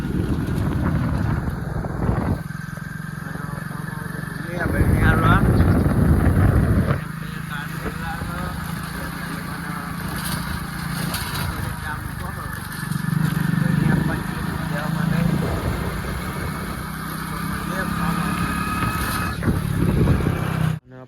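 A motorcycle engine hums steadily while riding, with wind buffeting the microphone and surges of louder engine noise; people talk intermittently over it.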